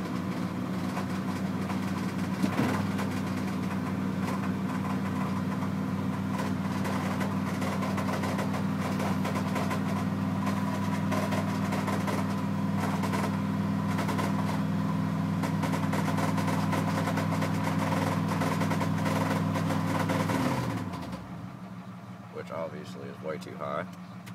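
A 1980 Ford F100 engine with a faulty throttle position sensor idles high and steady right after startup, a loud continuous drone that holds for about twenty seconds, then drops off as the engine shuts down, with faint talk afterward.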